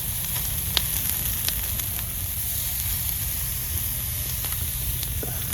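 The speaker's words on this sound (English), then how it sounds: "It had the most beautiful sizzle when I flipped it" Steady, faint sizzling hiss of steak seasoned with Montreal seasoning frying in a pan outdoors, with a few small pops and crackles scattered throughout.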